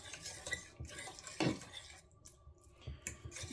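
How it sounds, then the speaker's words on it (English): A utensil stirs pork slices in barbecue sauce, with scraping and clinking against the pot in irregular strokes, close and fairly quiet, separated by short pauses. "And I'm going to stir it around."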